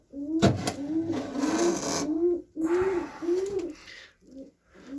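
Several pigeons coo close by inside a coop, a run of soft rolling, wavering calls repeated back to back, with faint rustling behind them.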